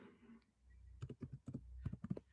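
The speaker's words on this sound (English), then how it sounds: "which I'm just typing in the chat" Quick bursts of keystrokes on a computer keyboard, close and quiet, with a brief pause before a flurry of rapid clicking taps in an otherwise silent room.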